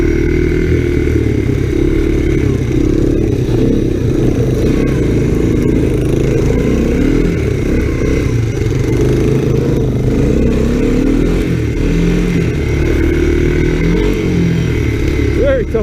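A loud, steady engine drone from an ATC (all-terrain cycle) ridden along a snowy trail in a snowstorm, close up and continuous with rattling clatter and wind, with a voice speaking over it.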